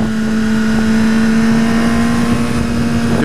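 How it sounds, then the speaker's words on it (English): A 2014 BMW S1000R motorcycle engine at full throttle drones loud and steady, holding one strong, sustained tone for about three seconds, with rushing wind noise over it. "Let's go over this little ledge, and I'm gonna give it full throttle."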